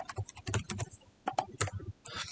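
Fast typing on a computer keyboard while entering string data, a burst of crisp close keystrokes, a short pause, then more clusters of clicks.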